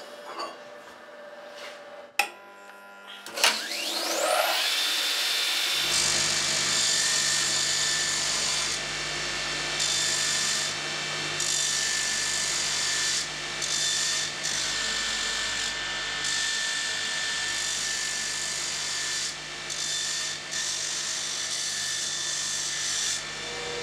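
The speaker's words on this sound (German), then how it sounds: "Damit das Flacheisen nicht scharfkantig ist, schleift er beide Enden nach." A farrier grinds both ends of a flat iron bar for a horseshoe with a power grinder, a steady loud abrasive whine running continuously after a few brief knocks at the start.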